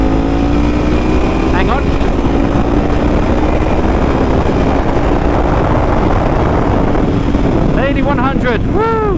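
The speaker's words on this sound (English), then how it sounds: "You literally get on a bike and you go." A Ducati motorcycle ridden at speed, its steady engine drone rising in pitch beneath loud, continuous wind buffeting, with a rider's voice breaking in briefly near the end.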